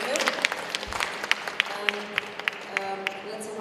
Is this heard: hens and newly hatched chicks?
no